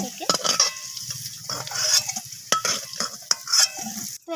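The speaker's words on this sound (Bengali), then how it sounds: "তো এখন আমি এই তেলের মধ্যে ফোড়নে দিয়ে দেবো একটা তেজপাতা, আর তার সাথে দিয়ে দেবো গোটা ফোড়ন" Bay leaf and whole spices such as mace, cardamom and cinnamon frying in hot oil in a pan, crackling sizzles with stirring scrapes and light clinks, close and moderately loud.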